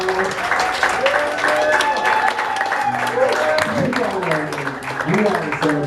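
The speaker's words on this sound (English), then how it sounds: "Give it a round of applause." An audience at the 2018 Ultimate Elite Pageant gives a round of applause, steady clapping and crowd noise running under a voice speaking over a microphone throughout.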